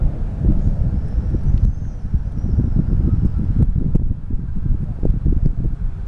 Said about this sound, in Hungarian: Nagyon hideg szél fúj.